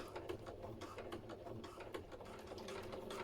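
Sewing machine stitching a fabric headphone cover, a quiet close mechanical whirr with a rapid regular needle rhythm and a few sharper clacks, running throughout without speech.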